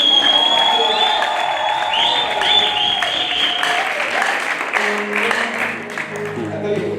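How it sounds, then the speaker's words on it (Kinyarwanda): A wedding audience breaks into sustained applause, a dense wash of clapping mixed with crowd noise, voices and tonal music throughout. "Kuri ubwo ngubwo reka tubikomere amashyi."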